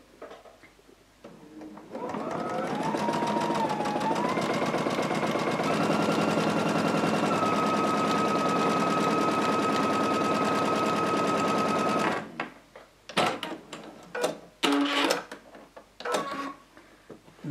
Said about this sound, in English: Now I'll sew this one first.